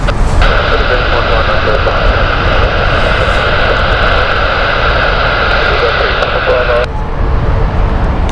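A jet airliner taxis off the runway at Heathrow, its steady engine roar and whine droning loud and continuous, then dropping slightly near the end; background radio chatter and broadband noise sit underneath.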